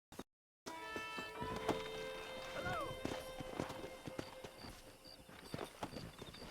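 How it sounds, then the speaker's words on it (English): Hooves of several horses clatter unevenly in Red Dead Redemption, a Western video game, as a herd is wrangled, moderately close after a brief cut to silence, with tonal game music running alongside. "Let's see if we can't wrangle some horses."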